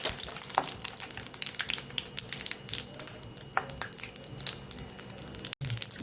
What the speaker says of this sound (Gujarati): અહીં આપણું તેલ સરસ ગરમ થઈ ગયું છે, તો અડધી ચમચી જેટલી રાઈ ઉમેરશું.